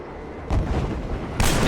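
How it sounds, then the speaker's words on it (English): Two heavy shotgun blasts from Killzone 3, played with a gun-shaped controller, each a loud booming burst separated by about a second, with no voice over them. "This shotgun has no range."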